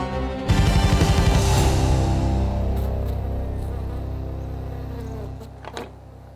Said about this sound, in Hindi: इस बॉक्स में दुनिया की सबसे खतरनाक मधुमक्खी हैं।